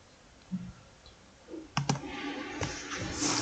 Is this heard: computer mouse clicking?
yes